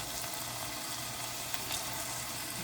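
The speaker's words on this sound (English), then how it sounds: "Hear the sizzle?" Green beans sizzle steadily in a hot pan as a Southern holiday side dish, a dense, continuous frying hiss that stays even and fairly close throughout, with no voices.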